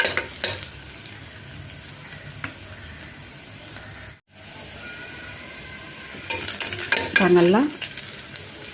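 Onions frying in a pan until golden brown for foxtail millet vegetable biryani, a steady close sizzle with occasional stirring scrapes and a brief voice near the end.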